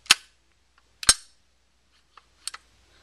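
Slide of an Umarex Glock GBB CO2 airsoft pistol snapping back and clanging: two loud metallic clacks about a second apart, followed by a fainter double click. Close up, with quiet gaps between.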